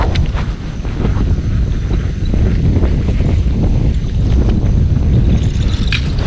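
Strong wind roars across open water during kayak fishing, loud and constant with heavy buffeting on the microphone.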